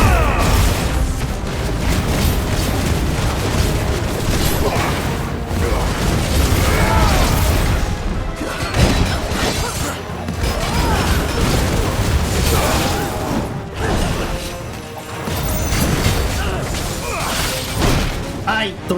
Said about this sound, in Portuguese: Explosão!